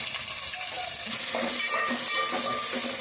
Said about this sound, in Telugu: దొండకాయ ఫ్రైకి అయితే ఇదిగోండి పోపు అయితే రెడీ అవుతుంది. ఈ విధంగా ఎగుతూ ఉంది కదా.